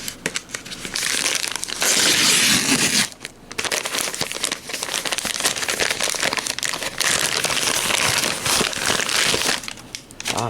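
Plastic-wrapped anime collection packages are torn open by hand without scissors, giving a loud, close, continuous crinkling and ripping of plastic with one short pause partway through.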